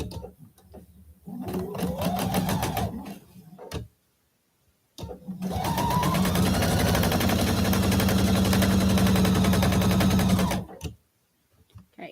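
Two runs of a sewing machine stitching a quilt block, a short burst followed by a longer steady whir with rapid needle ticking, close and fairly loud, separated by brief pauses and silence.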